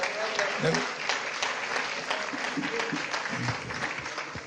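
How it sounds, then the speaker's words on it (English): A round of applause fills the space, steady clapping from a crowd with a voice briefly audible over it. "can you give the president a round of applause?"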